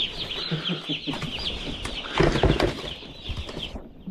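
Broiler chicks being moved in trays keep up a dense, continuous chorus of high peeping and cheeping close by, with some rustling and a brief louder burst partway through.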